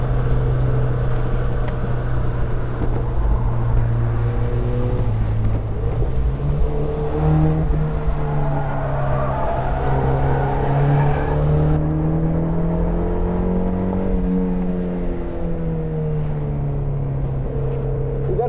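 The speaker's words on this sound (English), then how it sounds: "We got a car behind us. We gotta let them pass." On Alastaro Circuit in Finland, a faster turbo Miata with about 250 wheel horsepower passes during a track day. Loud, continuous engine drone shifts and climbs in pitch as the cars run close together, with no talk.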